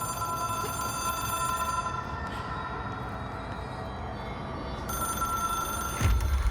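An old telephone in the Control video game rings with a continuous metallic bell trill that stops briefly and resumes, steady and moderately loud over a dense low ambient hum.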